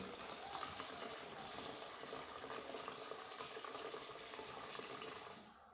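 A small water pump fills a tank in an Arduino-automated system, with a steady, faint rush of flowing water that continues evenly and then tapers off at the end.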